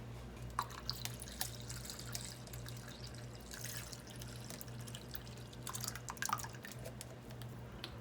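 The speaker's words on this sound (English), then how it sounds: "let's add a little bit of water" Water trickling and dripping as it is poured over the carburetor float bowl of a Kawasaki KX100/KX85 dirt bike, with intermittent splashes over a low steady hum.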